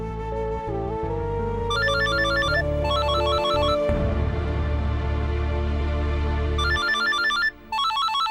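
A phone ringtone plays in a domestic setting, a repeating electronic melody with bright chiming bursts that start, stop and resume over several seconds, loud and close with no one speaking.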